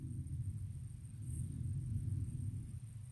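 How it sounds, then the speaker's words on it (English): Low, steady thunder rumbling in the background during a North Carolina storm, a continuous distant roll with no distinct cracks. "If you guys can hear that thunder in the background,"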